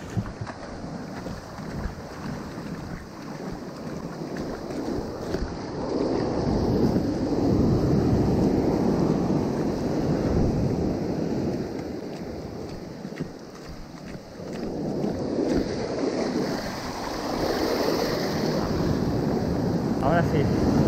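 Sea waves break on a beach during surf fishing, a loud continuous roar that swells and eases in long surges, with wind buffeting the microphone.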